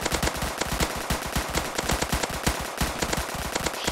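Rapid, evenly spaced gunshots from the Ghost Gun in Roblox Zombie Attack crackle in a steady burst for a few seconds, fairly quiet, with no talking.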